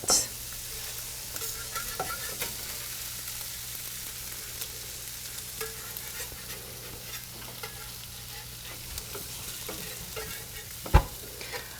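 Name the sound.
vegetables and onions sautéing in a pan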